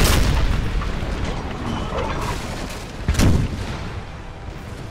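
Musket volleys and artillery fire sound in the Napoleon Total War game, with muffled booms and crackling gunfire bursts, one heavier blast near the middle, all at a moderate distance over a rumbling battle bed.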